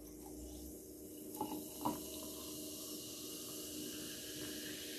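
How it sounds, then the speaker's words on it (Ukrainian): Sprite is poured into a glass with ice, producing a steady fizzing hiss of carbonated liquid with a couple of soft clinks early on, heard fairly quietly and close up. "І наливаю спрайт."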